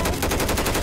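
A short burst of rapid helicopter machine-gun fire in the Left 4 Dead 2 zombie shooter, dense and loud with an even fast rhythm throughout.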